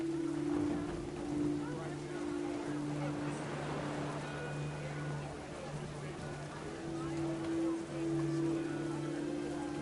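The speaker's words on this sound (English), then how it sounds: "Rain came down in buckets then" Steady rain pattering down in a video game, What Remains of Edith Finch, moderately loud, with a low sustained hum of tones underneath and a soft voice faintly present.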